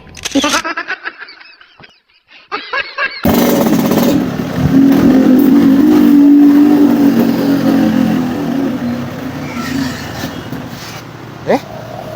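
A motorcycle that habitually breaks down, in a Sundanese comedy sketch, kicks in with a loud, close engine roar that revs steadily for several seconds, then sags and fades as if stalling; voices are heard at the start and again near the end.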